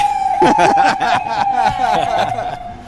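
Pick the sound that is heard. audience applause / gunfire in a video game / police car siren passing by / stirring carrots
police car siren passing by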